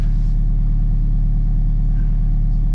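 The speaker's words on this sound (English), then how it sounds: "First time, we're gonna start the car up." An Alfa Romeo 4C's engine starts up and settles into a loud, steady low rumble at idle, heard close and alone for a couple of seconds.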